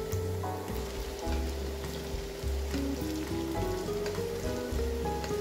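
Belyashi, meat-filled dough pies, frying in hot oil with a steady sizzle and crackle, fat being spooned over the top; busy bubbling texture throughout with no talking.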